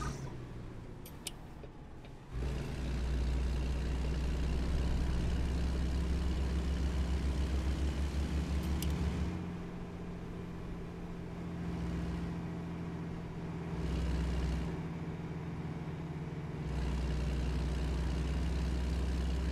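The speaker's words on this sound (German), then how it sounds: "Ja, der ist ein bisschen lauter, der Motor." A heavy truck engine rumbles loudly and steadily with deep low drone while driving on a US highway, its pitch shifting slightly as it changes speed; no talking.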